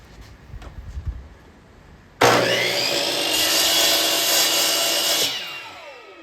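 A power saw cuts through a wooden board held against a stop block, starting abruptly as a loud, steady whining rasp for about three seconds before cutting off, up close, after some light knocks and shuffling.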